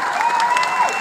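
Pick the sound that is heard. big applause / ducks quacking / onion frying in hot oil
big applause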